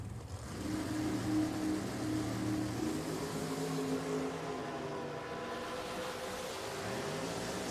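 Junior dragster engines drone and rev at Richmond Dragway's drag strip. A steady, buzzing motor tone gives way to shifting, rising pitches as the cars run, heard from a moderate distance.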